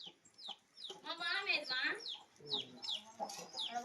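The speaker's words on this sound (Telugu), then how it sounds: "ఆ కోడి పొద్దు నుంచి గుడ్డు పెట్టడానికి చాలా ట్రై చేస్తుంది." A hen clucking repeatedly in short, rising bursts, trying to lay an egg at home, close and fairly quiet, with pauses between the runs of clucks.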